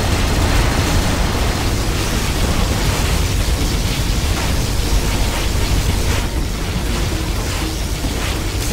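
A particle cannon blast rumbles through a Shockwave video game match, a dense, continuous roar of broadband noise with deep low-end weight that holds loud and steady for several seconds before easing slightly near the end.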